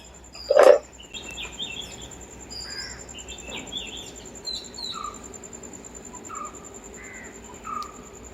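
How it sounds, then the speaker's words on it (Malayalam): Birds calling outdoors near a home kitchen, with a loud crow-like caw at the start followed by scattered short chirps at moderate distance over a faint insect hum. "വീഡിയോ എഡിറ്റ് ചെയ്തപ്പോഴാണ് ആ ഒരു കിളിന്റെ സൗണ്ട് പല സ്ഥലത്തും"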